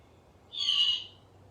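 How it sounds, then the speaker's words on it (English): A baby great horned owl gives a single food begging call, a high, raspy hiss-like screech of about half a second, heard fairly near over a low background hum. "show you what the food begging call sounds like"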